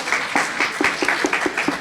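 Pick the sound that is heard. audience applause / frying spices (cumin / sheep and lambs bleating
audience applause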